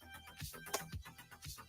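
A phone rings faintly in a repeating electronic ringtone pattern, quiet and somewhat distant, with no voices over it.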